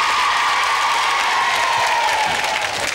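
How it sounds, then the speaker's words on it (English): Studio audience at a 1978 children's quiz show claps and cheers after contestants answer correctly, a loud, continuous wash of applause with a steady tone running underneath. "let's give a round of applause"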